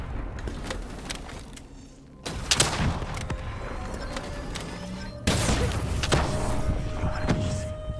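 Black Ops III gunfire and a grenade blast erupt in loud, dense bursts during a firefight, with sharp cracks and rumbling impacts layered through.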